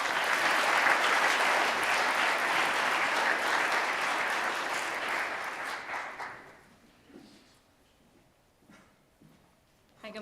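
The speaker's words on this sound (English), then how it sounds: "let's give a warm round of applause for Staff Sergeant Cody Bailey" Audience applause at a Veterans Day school assembly, loud and dense for about six seconds, then fading out into scattered claps and quiet room noise.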